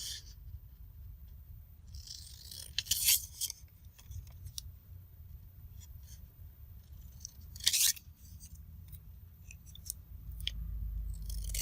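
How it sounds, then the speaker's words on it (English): Quick scissor snips trimming journal cards cut from book pages, with two brighter bursts of cutting around the third and eighth seconds over a low steady background hum, close and fairly quiet. "Just some quick snips."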